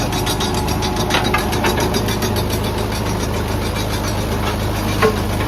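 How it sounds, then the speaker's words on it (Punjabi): A tractor engine runs steadily under light load driving a rotavator, with a continuous low mechanical drone and faint rattling from the implement, no voices. "ਰੂਟਾਵੇਟਰ ਠੀਕ ਹੈ ਚੱਲ ਰਿਹਾ ਟਰੈਕਟਰ ਵੀ ਕੋਈ ਬਹੁਤਾ ਲੋਡ ਤੇ ਚੱਲ ਨਹੀਂ ਰਿਹਾ"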